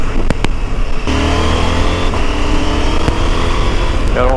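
A KTM Adventure 890 motorcycle riding on the Tour de Corse roads, its engine droning steadily and close with shifting pitch, a few sharp clicks and a brief rising rev near the end.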